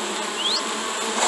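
Bees buzz in Minecraft Education, a continuous close insect drone that holds steady for just over a second, with a brief rising whine partway through.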